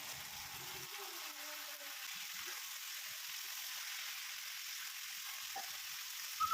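Onion and chili fried until well browned in a pan for Kerala-style kaya kayatholi cherupayar puzhukku sizzle in a steady, even hiss, with a few soft stirring knocks near the end and no one talking.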